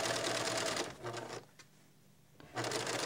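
Sewing machine stitching mitered binding onto a quilt, running in steady rapid bursts with a brief pause in the middle before resuming close and loud.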